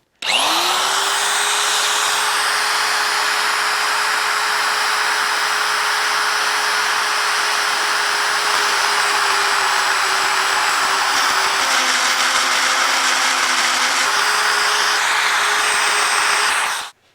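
A power drill runs steadily for about fifteen seconds boring a 5/8 inch hole in a steel hitch plate, with a sustained motor whine, its pitch dipping briefly as the bit bites, close and loud.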